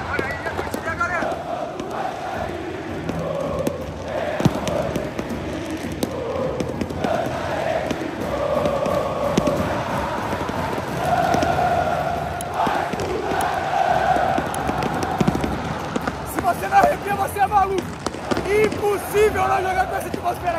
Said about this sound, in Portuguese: Olha aí a torcida, galera!